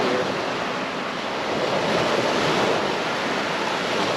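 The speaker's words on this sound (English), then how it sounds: "All the waves rolling in, all the boats." Surf rolling in along a thick reef coastline makes a steady, broad roar with no clear breaks, mixed with wind buffeting the microphone.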